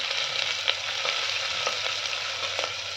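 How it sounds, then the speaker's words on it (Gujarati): A spice paste sautés in a clay pot with a soft, continuous sizzle and faint intermittent stirring, heard close but fairly quiet with no talking. "પેસ્ટ નાખીને સાતળવાનું છે."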